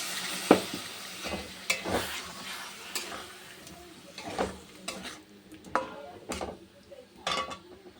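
Water poured into frying masala for a Bengali fish curry, with a sizzling hiss under repeated spoon scrapes and clinks against the pan, close and moderately loud.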